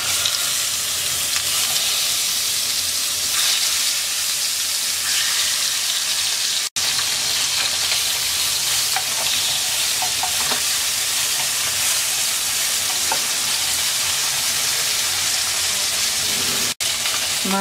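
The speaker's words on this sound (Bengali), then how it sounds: "তেলটা গরম হয়ে গেছে, মাছ দিয়ে দিচ্ছি।" Small fish fry in hot oil in a wok with a loud, constant crackle and sizzle, close up and unbroken apart from two brief cuts, with no talking.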